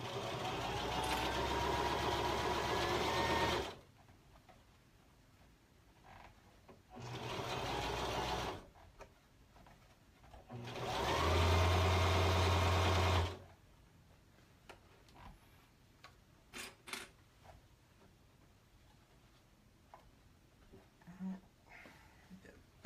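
A sewing machine stitches the hem of a dress in three steady whirring bursts of a few seconds each, separated by quiet pauses with small handling clicks and rustles.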